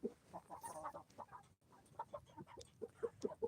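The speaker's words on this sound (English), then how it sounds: "this right here is what that racket is all these chickens are getting lined up" A flock of chickens lining up to go to bed, a faint, busy chorus of overlapping clucks and soft squawks in quick irregular bursts, with no talk.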